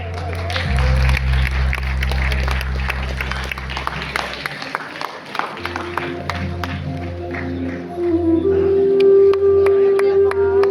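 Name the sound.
audience applause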